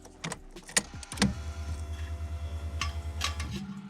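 A Mitsubishi Lancer Evo 8 engine, freshly fitted with an Exedy twin-disc clutch, starts on the ignition after a few clicks and jingles, then settles into a steady, close, throbbing idle with a faint pulse.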